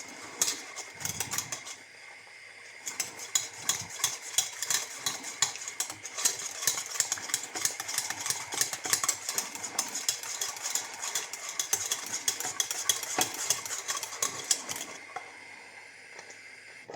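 A cooked pudding is stirred in a pot, the spoon scraping the sides in steady, busy strokes that go on for about fifteen seconds, then stop abruptly, with no talk.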